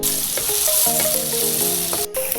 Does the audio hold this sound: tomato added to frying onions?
yes